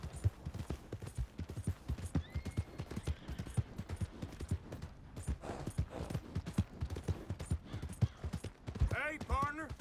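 Rapid clip-clop of horse hooves on hard ground in the Western game Red Dead Redemption 2, close and rhythmic throughout, with brief voices partway through and a horse neighing near the end.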